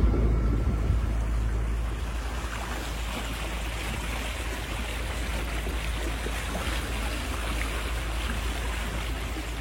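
A sailboat motoring under engine into a light headwind off the Greek island of Symi: steady low engine drone with broadband water rush and wind, continuous and fairly loud throughout, no voices.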